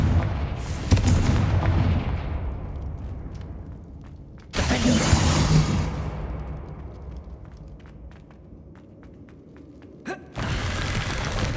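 Confringo explosive spell blasts in Hogwarts Legacy, two loud booming bursts that decay slowly, followed by a sharper blast near the end, with no talking.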